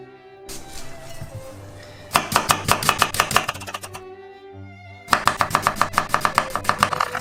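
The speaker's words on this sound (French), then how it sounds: "Pour mon riz, je vais couper un demi-oignon. Je vais le ciseler." Rapid, steady knife strokes chopping an onion on a cutting board, two close bursts of quick rhythmic chopping separated by a short pause.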